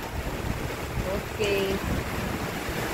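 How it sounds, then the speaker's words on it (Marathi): Heavy early-June monsoon rain pours in a dense, roaring wash of water close by, steady throughout, while a voice speaks briefly over it. "पावसाला जोर वाढलेला आहे जोराने"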